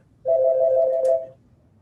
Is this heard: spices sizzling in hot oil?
no